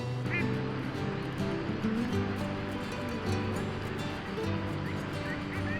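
Mallard ducks, including a white domestic mallard, quack and honk continuously at a busy city park, close by and layered with other waterfowl calls over steady background noise.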